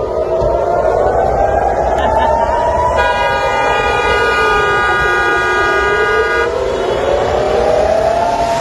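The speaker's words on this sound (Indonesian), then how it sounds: "Suara sirine tanda peringatan terdengar di sejumlah titik di Tel Aviv." A loud air raid warning siren wails in Tel Aviv, its pitch slowly rising and falling over a dense roar of background noise, with a steady harsher tone layered in midway.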